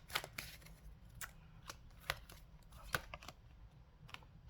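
Tarot cards being shuffled and drawn, with soft scattered riffles and a few sharp flicks as cards slide and snap apart, quiet and close in an otherwise still room.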